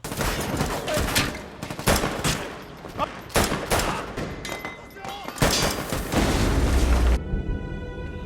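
Heavy gunfire from a SWAT team in an action film: dense bursts of shots and booming impacts rattle in quick succession, loud and close, under a narrator's voice.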